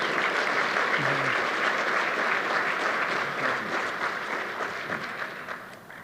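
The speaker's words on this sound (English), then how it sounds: "Let's give a huge round of applause" Audience at an annual luncheon breaks into steady, dense applause, many hands clapping together in a sustained roar that slowly thins out over several seconds.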